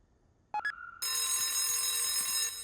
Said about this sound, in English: as you will hear the start bell, and you will hear it basically give you a notification that a train has started up